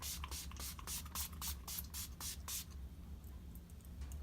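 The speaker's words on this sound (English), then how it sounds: "Now I'm gonna set my face with Urban Decay Makeup Setting Spray Deslick." Urban Decay makeup setting spray mists out in a quick series of about eight short, close, crisp spritzes, then stops, leaving faint room noise.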